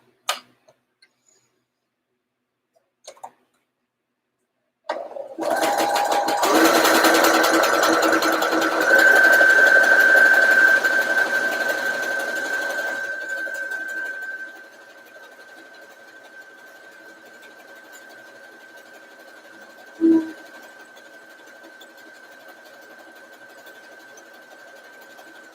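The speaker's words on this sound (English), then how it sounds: "so I just zigzag down until it starts to curve at the hem" Sewing machine running a zigzag stitch at length 2 down a skirt edge toward the curved hem: a steady mechanical whir of about nine seconds that slows and fades, then a faint hum and one soft knock.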